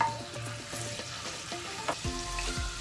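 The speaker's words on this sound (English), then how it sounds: "Half a tablespoon of garlic paste. Give it a stir so it mixes with the oil." Garlic paste being stirred into hot olive oil for a chicken curry, giving a steady close sizzle and fry with soft scraping stir strokes and occasional clinks, no voices.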